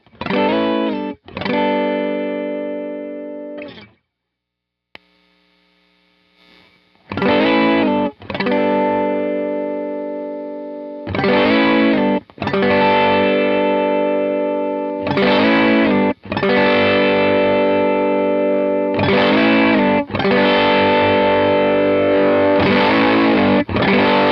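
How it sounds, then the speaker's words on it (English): Electric guitar played through an Analogman Sunface germanium fuzz pedal, loud sustained distorted chords struck in separate bursts with short gaps, one brief quiet pause early on. "As we roll it up, we're going to get more overdrive and distortion, and then finally move into that all-out fuzz tone"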